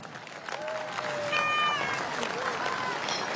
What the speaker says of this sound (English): can we have a big warm Buller round of applause for the 2 wonderful teams and the spectacle that we witnessed this afternoon